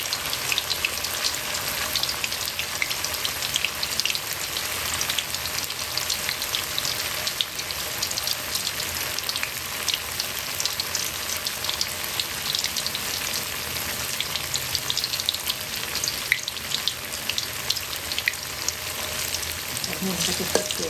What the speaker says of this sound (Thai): มาทอดไฟปานกลางนะคะให้เต้าหู้มันเหลืองๆนะคะ